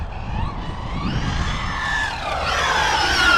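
A Maverick Quantum RX Flux 4S 1/8-scale 4WD RC rally car's electric motor whines and rises in pitch under throttle, growing steadily louder over a few seconds with no talking.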